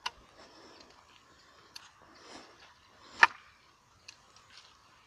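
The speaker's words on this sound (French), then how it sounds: "On va charger le canon du haut." Shells being loaded into the upper barrel of an Ildiz 12-gauge over-under shotgun: a few light metallic clicks and taps, one sharper snap near the middle, faint and close in a quiet setting.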